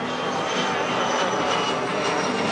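An airplane flies overhead near an airport during an outdoor beer festival, a loud, steady engine roar filling the whole few seconds with a broad rushing drone.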